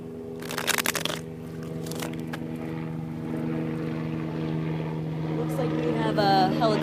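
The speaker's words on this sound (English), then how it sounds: "helicopter flying overhead." A helicopter passes overhead, its steady rotor drone holding throughout while brief shuffling and rustling bursts sound in the foreground near the start.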